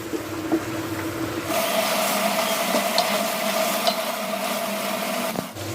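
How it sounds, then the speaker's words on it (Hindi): Minced meat keema roasting in ghee in a pan: a steady, moderate sizzle with a faint constant hum underneath, briefly dropping in level near the end. "अभी करीब 6 से 7 मिनट इसकी अच्छे से भुनाई करेंगे"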